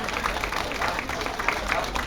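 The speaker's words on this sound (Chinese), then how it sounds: "我们用热烈的掌声庆贺这殊胜的一刻。" Applause from an audience at a ribbon-cutting ceremony held before a lion-dance procession into a Buddhist hall, a steady patter of many hands with a crowd murmur underneath.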